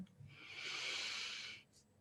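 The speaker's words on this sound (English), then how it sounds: "Breathing in, I'm aware that I am breathing in." A single slow, deliberate inhale during mindful breathing practice, drawn steadily through the airway for about a second. It is close and soft, with quiet around it.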